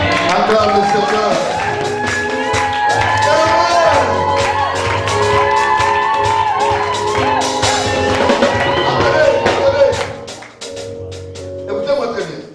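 A church congregation cheers, shouts and whoops in acclamation of the Lord, a loud dense crowd roar with clapping. Voices overlap throughout, and the noise dips briefly near the end before rising again.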